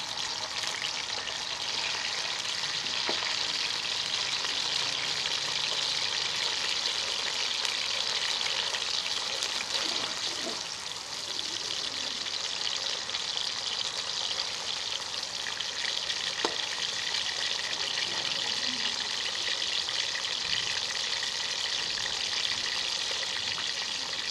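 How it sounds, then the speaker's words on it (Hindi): Finely chopped onion frying in hot oil, a dense steady sizzle and crackle throughout with occasional stirring clinks, no talking. "ऑयल हमारा गर्म हो गया। एक प्याज है मेरे पास बारीक कटा हुआ, ये शामिल कर लेंगे।"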